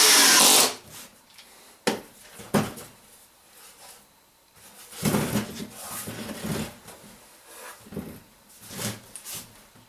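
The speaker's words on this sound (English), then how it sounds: "then I'll put those other 4 screws in." Power drill driving screws into a wooden ammo box on a high work surface: several short bursts of whirring and thudding, with scraping and handling noises between them, fairly close and loud.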